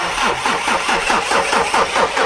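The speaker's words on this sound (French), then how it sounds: "attendez, ça va le faire, le moteur est froid" A cold car engine cranks with difficulty, the starter churning in a steady, rapid rhythmic whirr close by and loud throughout, without catching.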